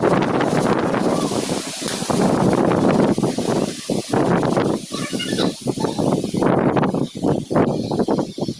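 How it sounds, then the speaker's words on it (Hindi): Light wind and light rain outdoors make a loud, continuous broadband rush with gusty buffeting against the microphone, dipping briefly in places before surging back. "ये हल्की-हल्की सी हवा चल रही है और बारिश है हल्की-हल्की"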